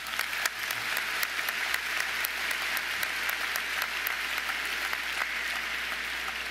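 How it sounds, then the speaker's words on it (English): Graduates and guests at a university commencement ceremony applaud in a large hall, a sustained, even roar of many hands clapping, heard from some distance and steady throughout. "Please give yourselves a round of applause."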